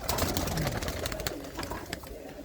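Domestic pigeons at a Punjabi pigeon-fanciers' loft give soft, low cooing in a steady, busy murmur close by, with scattered noise over it.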